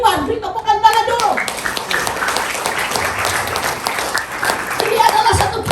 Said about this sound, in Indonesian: Beri tepukan tangan dulu.